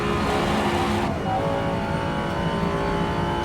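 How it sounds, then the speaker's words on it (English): Race car engine in the racing video game Rennsport, a loud steady drone that shifts pitch briefly near the start, then holds a constant roar throughout with no talking. "I just don't believe for 1 second this car would sound so rubbish in real life."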